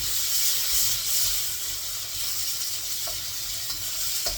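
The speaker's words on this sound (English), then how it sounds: "So that's searing good." Meat searing in a hot pan as the first step of a homemade Indian curry, giving a steady, close hiss of sizzling fat that carries evenly throughout with a few faint clinks.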